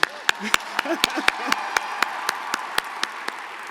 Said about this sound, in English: Yes, it's okay to applaud.